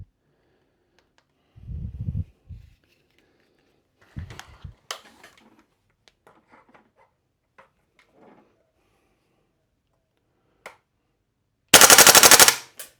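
A full-metal Well Pro PPK-20 gas blowback airsoft SMG fires one loud, rapid burst of about a second near the end at roughly 12 rounds per second. Quieter mechanical clicks and handling knocks come before it, with no talking.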